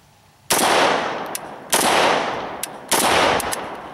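An Arsenal SGL21 AK-47 style rifle with an AK74 style muzzle brake fires three loud, sharp single shots at even intervals of a little over a second, each followed by a long ringing echo outdoors.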